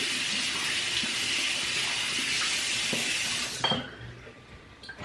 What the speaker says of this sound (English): me wash my hair.